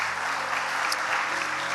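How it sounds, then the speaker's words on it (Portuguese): Church congregation applauding the Lord and the church's members, a brief dense wash of many hands clapping, fairly soft and steady. "Vamos aplaudir ao Senhor e aos membros dessa igreja."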